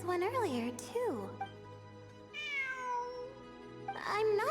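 A cat in Genshin Impact meows several times in drawn-out, bending cries, clear and close at the start and again at the end, with a voice speaking in between.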